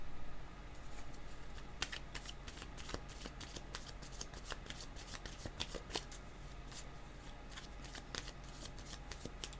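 Tarot cards are shuffled up close, a continuous papery riffle punctuated by frequent crisp slaps and snaps as the deck is cut and bridged, with no talking.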